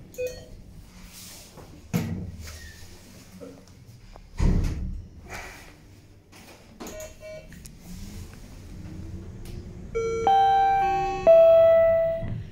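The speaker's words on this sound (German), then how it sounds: "Tür wird geschlossen." Vestner elevator door in a health centre sliding shut, a few soft thuds and clunks followed by rising motor hum and closing tones, fairly quiet with no one talking.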